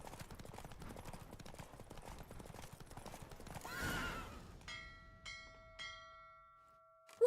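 A horse gallops in The Witcher 3: Wild Hunt on PC, steady hoofbeats under wind, then a loud neigh as it slows, followed by a few ringing chime-like tones and a brief final whinny.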